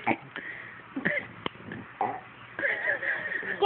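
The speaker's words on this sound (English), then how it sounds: "Let me get you both burping." Babies burp in a scattered series of short, close, throaty eructations, several brief gulps and grunts, with some soft vocal noises mixed in between.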